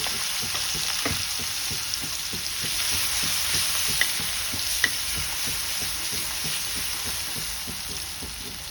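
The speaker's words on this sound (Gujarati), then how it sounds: "એક મિનિટ આપણે એને સાતળવા દઈશું મરચાંને" Ginger and green chili paste sizzles in hot oil while a spoon scrapes the pan in a regular rhythm, with a couple of sharper clinks along the way.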